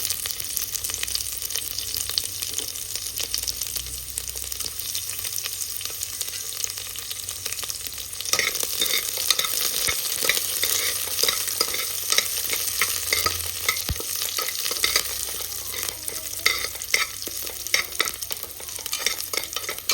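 Garlic, curry leaves and dry red chillies sizzle in hot oil while being stirred, a continuous crackling fry with scraping spoon strokes throughout, close and steady, growing brighter midway.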